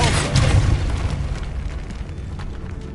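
The Depulso force spell cast in Hogwarts Legacy: a loud, sustained blast with a deep rumbling boom that bursts out at once and slowly fades over a few seconds.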